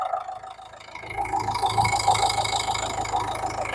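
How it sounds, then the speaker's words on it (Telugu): A Renault Duster RxL automatic diesel with about 65,000 km cranks and fires on a single start, then settles into a steady, fairly loud idle with a faint rattle. "సింగిల్ సెల్ఫ్లో బండి స్టార్ట్ అవుతుంది."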